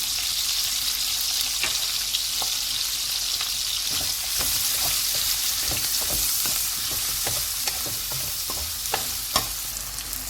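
Vegetables frying in oil seasoned with black pepper and salt over medium heat, a steady broadband sizzle with scattered clicks and spatula scrapes throughout, close and fairly loud with no talking.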